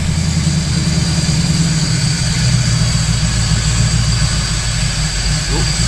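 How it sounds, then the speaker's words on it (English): A Holden Torana engine idles steadily at about 750 to 800 RPM after warming up, with a low, even rumble that keeps going without a break while a person speaks over it. "the RPM's actually gone up, which is good, because that's what we want to adjust"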